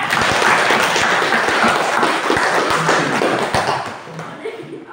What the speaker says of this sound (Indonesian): Aplaus dulu untuk Elda.